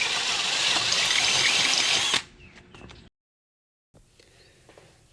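A cordless drill with a dying battery boring a hole through rooftop-tent crossbars: a loud, steady whine for about two seconds, then it cuts out into faint clicks, silence and quiet handling.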